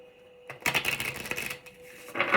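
A deck of oracle cards shuffled by hand, giving a dense, crisp riffle of flicking card edges in two bursts close by, with no talking.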